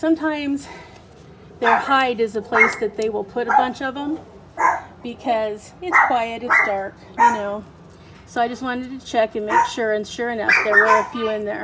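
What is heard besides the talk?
dogs barking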